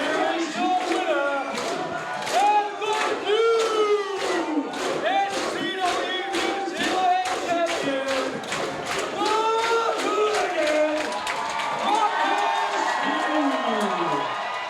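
A hometown wrestling crowd on its feet cheers a two-time champion, loud rhythmic chanting and shouts pulsing with clapping, with close voices rising and falling in waves.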